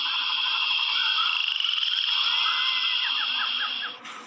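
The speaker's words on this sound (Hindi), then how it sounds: "जहां मेंढकों के टर-टर करने की आवाज बहुत ज्यादा गूंज रही थी" Frogs croak by a small moss-covered pond at night, a dense, loud, continuous chorus of trilling calls with quick rhythmic pulses, fading slightly at the very end.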